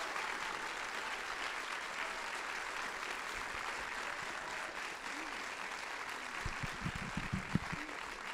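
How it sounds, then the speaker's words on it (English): Audience applause at a Green New Deal town hall in a school hall, a steady, dense round of clapping from a large crowd that carries on throughout, with a few louder claps near the end. "we should all give her a huge round of applause"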